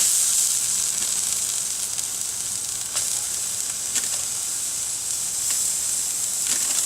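Shrimp sizzle in a hot pan with a steady, bright hiss that holds throughout, broken by a few soft crackles and pops, close and alone with no talk.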